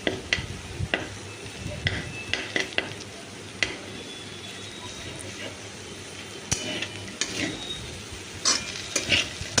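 Ridge gourd with ginger and green chilli fries in hot oil, a soft continuous sizzle broken by frequent scraping and clinks of a spatula stirring in the pan.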